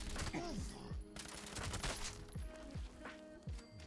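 A weapon fires rapidly in the video game Fallout 76, a quick string of sharp shots with distant in-game effects. The sound is fairly quiet and continuous, with no clear speech.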